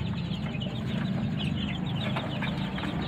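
Week-old chicks in a coop peep in a thin, continuous chorus over a steady low hum filling the whole stretch.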